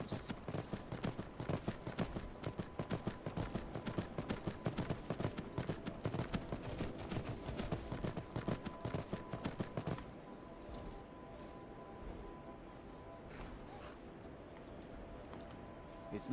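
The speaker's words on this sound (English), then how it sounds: "As far as I can on the horse." Steady, rapid clip-clop of horse hooves while riding in the Skyrim video game, a continuous rhythmic trot that drops in loudness partway through and carries on more softly.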